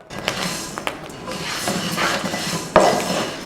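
Rice roasting in a pan for Kerala ari unda is stirred continuously, giving a steady scraping and rubbing of the spoon against the pan, with a few sharper clinks and one louder knock near the end.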